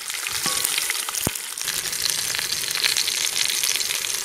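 Crushed garlic fries in a hot pan with a steady bright sizzle and crackle, close and continuous, with a brief utensil clink near the start.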